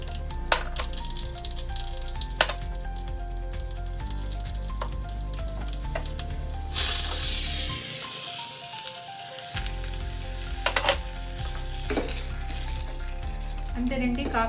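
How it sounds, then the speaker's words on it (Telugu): Mustard seeds, cumin, dried red chillies, curry leaves and a pinch of asafoetida sizzle in hot oil for a bitter gourd gojju tempering, a loud, steady crackling fry with faint pops, continuing alone throughout. "ఆవాలు, జీలకర్ర, ఎండుమిరపకాయలు, కరివేపాకు, కొద్దిగా ఇంగు వేసుకుని పోపు వేసేసుకుంటే"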